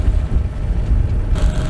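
Wind buffets the microphone aboard a sailboat on a Finnish lake, a gusty low roar that swells and ebbs over a couple of seconds with no talking.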